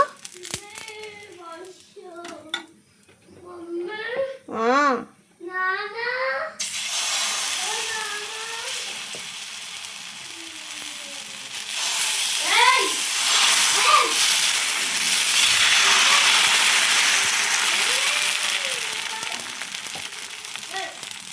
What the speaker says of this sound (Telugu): నేనైతే ఇప్పుడు దోశలు వేస్తున్నా